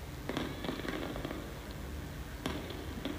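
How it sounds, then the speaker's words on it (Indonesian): Fireworks at the SEA Games 2019 closing ceremony, heard from outside the stadium as scattered distant pops and crackles over a steady rumbling background, with a few sharper bangs standing out, no voices. "bunyi kembang api itu berisik banget"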